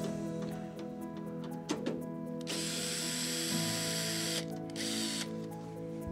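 A power drill runs in steady whirring bursts while loosening a fastener on the dust collector of a 2034VXA sandcarving system, the motor loud and close, with brief pauses and changes in pitch between runs.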